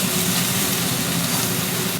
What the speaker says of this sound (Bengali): ভাজা ভাজা করিয়ে নাড়াচাড়া করতে করতে এটা নরম হয়ে যাবে